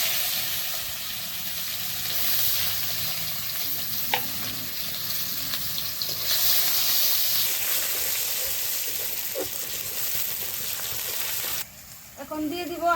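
Whole cumin seeds, chopped onion and a little garlic sizzle and crackle in hot oil with occasional stirring, the steady frying hiss continuing near and loud before dropping off abruptly at the end.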